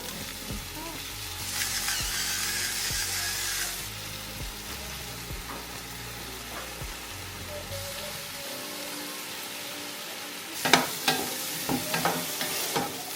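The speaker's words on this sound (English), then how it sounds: "we're gonna start adding all the veggies to the pot and cook it" Vegetables with bay leaves cook in a curry pot, a soft sizzle under a steady hum and scattered clinks, with a few louder knocks and stirring clatters near the end.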